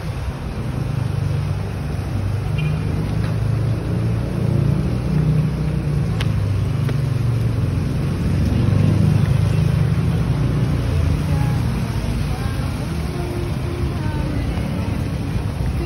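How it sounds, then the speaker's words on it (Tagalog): A garbage truck passes on a street: a steady, loud, low engine rumble that lasts throughout, swelling slightly partway through as the truck passes. "Because there's a garbage truck."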